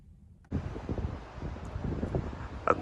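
Wind on a very blustery day outside a hotel in Redruth buffets the microphone in rough, uneven gusts that start abruptly and keep rumbling loud and close.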